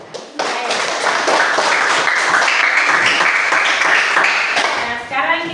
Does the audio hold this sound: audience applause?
yes